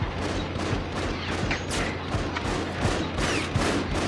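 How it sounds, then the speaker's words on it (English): Dense gunfire from mutants in the game Afterfall InSanity, a steady rattle of overlapping shots with occasional louder cracks, continuous and fairly loud throughout. "I like how they're still shooting at me."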